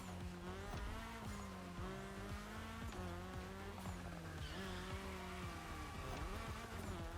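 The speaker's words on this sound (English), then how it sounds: "I'm drifting" A rally car drifting in The Crew Motorfest racing game, its engine revving and shifting pitch while tires squeal continuously through the turns, loud and close throughout.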